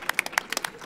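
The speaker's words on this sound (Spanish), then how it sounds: "La verdad un aplauso" A small audience at a round-table discussion gives a brief smattering of claps, a handful of sharp separate hand claps over under a second.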